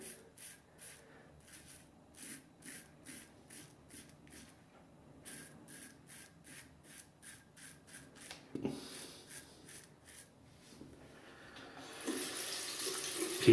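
A bathroom tap runs while a face is rinsed after a wet shave with a Fat-Tip Piccolo razor, giving a rhythmic pattern of short splashing bursts that builds to a steadier, louder rush of water near the end, with no talking.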